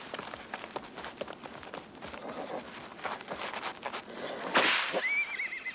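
Horses move about with soft thuds and rustles, then one lets out a loud, shrill neigh near the end, fairly close.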